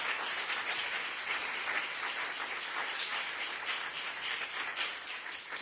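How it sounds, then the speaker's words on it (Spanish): A church congregation applauds during a Sunday morning Resurrection service, a continuous, even roar of many hands clapping at moderate distance, sustained without a break. "Vamos a darle un aplauso al Señor en esta mañana."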